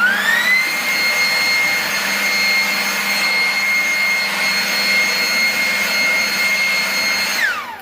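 A Ryobi 40V Gen 3 leaf blower running in non-turbo mode gives a loud, steady high whine and rushing air that holds for several seconds, then winds down at the end.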